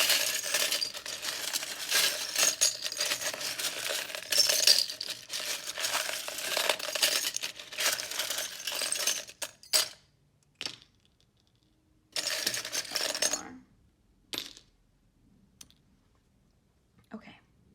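Small crystal charms pulled from a pouch and dropped onto a surface during a tarot reading, giving a rapid run of light clicks and clinks, then a few separate clatters between short silences.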